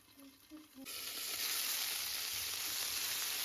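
Dumplings frying in butter in a covered pan, a loud steady sizzle that swells up after a quieter start with a few light clinks, continuing evenly without talk.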